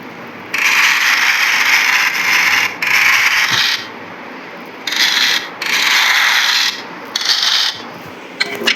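Safe being opened in a Roblox game, a series of rasping, grinding mechanical bursts that start and stop in uneven stretches of one to two seconds, fairly loud over a faint steady background.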